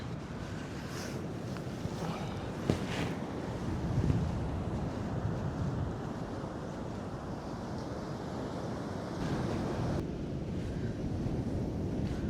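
Waves washing onto a beach on the Konkan coast with gusting wind buffeting the microphone, a continuous roaring surf without voices.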